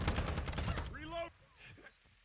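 A Call of Duty match with an ISO Hemlock rifle: a rapid, loud burst of automatic gunfire, then a voice speaks briefly as the shooting stops.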